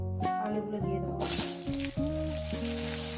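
Potatoes with a little turmeric go into hot oil in a pan over a medium flame for aloo dum, giving a steady, close sizzle beneath prominent background music.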